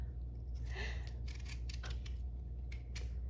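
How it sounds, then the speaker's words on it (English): Potatoes being cut into smaller pieces, a handful of quick soft knife chops and crisp snips close by, irregularly spaced over a quiet kitchen hum, without any talking. "I'm going to cut the pieces a little smaller"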